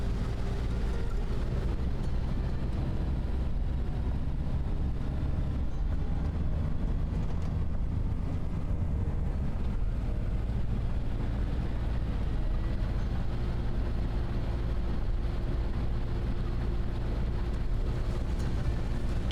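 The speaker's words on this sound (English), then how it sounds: "I wish I could, like, lower my windows, you know, to hear the engine and, like, the machine rumbling a bit more." Steady low engine rumble of a farm vehicle in the Farming Simulator 25 video game, a continuous droning hum running unbroken and evenly at moderate level with no talk over it.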